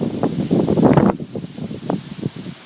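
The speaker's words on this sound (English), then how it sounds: "It's very windy." Gusty wind buffets the microphone in an organic garden in June, in uneven low rumbling bursts, strongest at first and then easing into softer, scattered gusts.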